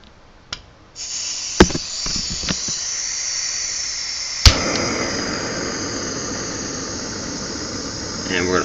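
A Jetboil camping stove burner lights after a few sharp clicks and settles into a steady, loud, close broadband hiss that runs unbroken to the end.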